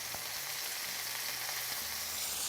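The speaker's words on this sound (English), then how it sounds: "I have this panini press that I'm going to press this with" A roasted pepper and mozzarella panini sizzles steadily in a hot panini press, a continuous, even frying hiss that stays close and constant throughout with no talking.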